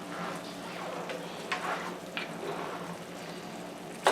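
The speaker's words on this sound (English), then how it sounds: "back to the shrimp cooking" Shrimp cooks on a stovetop for salsa shrimp with a soft, steady sizzle, broken by a few light clicks and taps of utensils.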